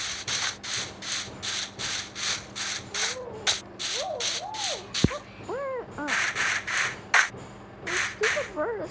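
A bird in a video game caws over and over in quick rhythmic bursts, harsh and close, with a few squawks breaking the pattern partway through.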